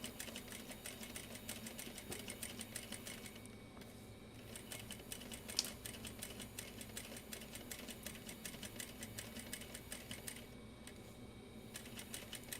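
A sewing machine top stitches a zipper pouch with a long stitch length, giving a fast, even, continuous run of close mechanical ticking from start to finish, with no talking.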